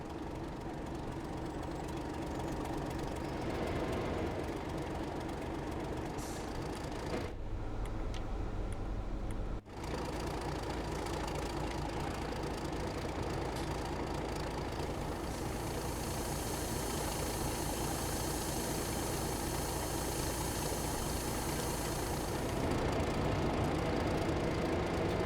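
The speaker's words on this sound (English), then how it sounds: "in a very slow moving diesel train" A Class 31 diesel locomotive on the Carlisle to Shapfell Works route in Train Sim World 5 idles and grumbles at low speed, a steady mid-pitched engine drone with a brief interruption partway through.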